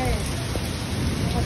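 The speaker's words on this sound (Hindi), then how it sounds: "इतनी जबरदस्त बारिश है, इतना प्रेशर है" Heavy rain pours down hard, a loud, dense and continuous hiss of drops hitting surfaces without a break.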